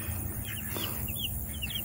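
Soft chicken clucks and chirps come and go over a steady outdoor background rumble, fairly faint and scattered.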